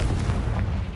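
The Confringo spell from Hogwarts Legacy goes off as a deep, rumbling blast that lasts about a second and dominates everything else.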